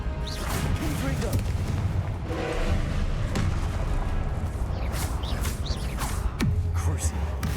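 Spell explosions from the Confringo curse in Hogwarts Legacy go off as repeated booming blasts and crashes, with sharp bursts spread through a dense, loud battle of steady low rumble.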